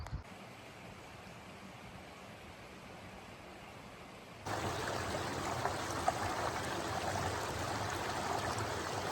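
Waterfall and creek at Cooper Canyon Falls along a canyon trail, a steady broadband rushing roar that grows noticeably louder partway through as the falls come nearer, with no talking.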